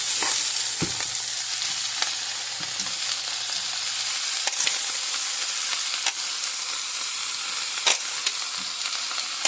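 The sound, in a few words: napa cabbage sizzling in a pan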